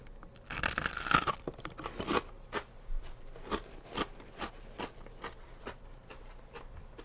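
Crunchy pub food bitten and chewed with the mouth closed, close and crisp: a loud cluster of crunches at first, then sparser, softer chews spaced out over several seconds, no talking.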